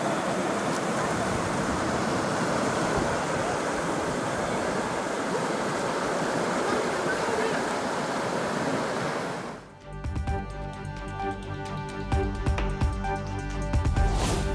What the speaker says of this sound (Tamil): குமரி மாவட்டம் திருப்பரப்பு அருவியில் தண்ணீர் ஆக்ரோஷமாக கொட்டுவதால் 3வது நாளாக குளிக்க தடை.